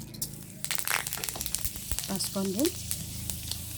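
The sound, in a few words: panch phoron spices sizzling in oil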